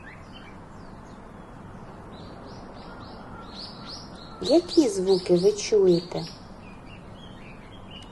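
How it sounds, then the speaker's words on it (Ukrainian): Soft, high bird chirps repeat in a forest over a quiet outdoor hush, and a person speaks briefly partway through. "спів птахів"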